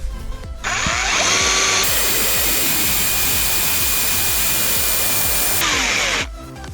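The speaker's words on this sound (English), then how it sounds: "you might just drill straight through it" A power drill bores into a stripped screw on a PS3 hard drive tray, whining loudly and continuously for about five seconds with a steady high pitch, close up, then spins down; nobody talks.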